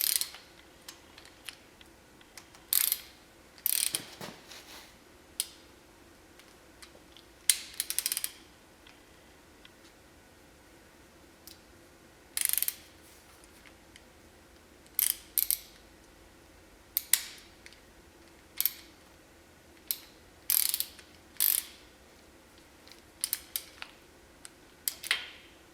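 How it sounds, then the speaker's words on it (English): A ratchet tightens the cover bolts on a Dana 44 front axle from a 1980 Chevy Silverado, giving short bursts of crisp clicking separated by pauses over a quiet background. "Gonna torque them. The book says 10 to 20 foot-pounds for cover bolts."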